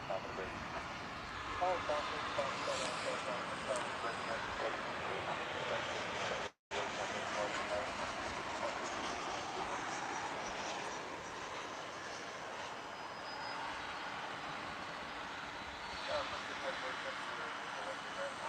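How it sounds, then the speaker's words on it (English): American Airlines 737-800 from San Jose landing at DFW, a faint distant jet roar running beneath a voice talking throughout, with one brief dropout. "an arrival, a 737-800 coming in from San Jose, American Airlines"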